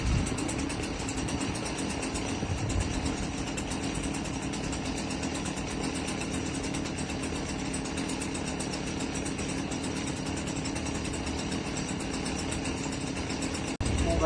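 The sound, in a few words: engine idling while warming up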